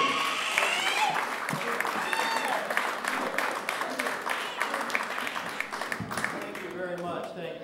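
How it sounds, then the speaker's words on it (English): Audience applause and cheering fill a comedy club at the Atlanta Improv as a comedian is introduced, a steady dense wash of clapping with some whoops that gradually tapers, with voices mixed in. "Please give a big, warm round of applause to Flip Cummings."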